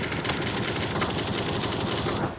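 A steady, buzzing vehicle engine drones continuously at close range in PlayerUnknown's Battlegrounds, a dense rough hum holding an even level before briefly dropping away at the end.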